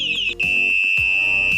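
A loud electronic anti-theft bicycle alarm strapped to a bike handlebar blares a sweeping tone that settles into a steady piercing shrill, with brief warbling pulses underneath.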